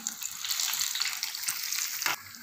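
Potato fritters (pakoras) fry in hot oil with a brief, steady bubbling sizzle, close and moderately loud, and no voices.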